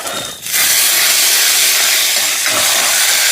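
Mustard seeds and curry leaves temper in hot oil for sambar. After a brief quieter start, a loud sizzle bursts in and settles into a dense, steady hiss close by.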